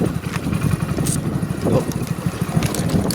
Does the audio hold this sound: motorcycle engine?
yes